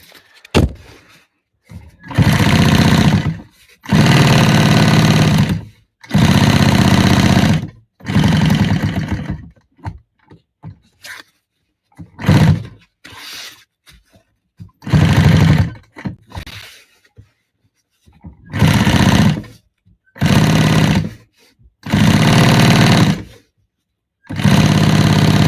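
Industrial sewing machine stitching a cigarette pouch, running in loud bursts of a few seconds each, separated by short pauses with small clunks and handling noises.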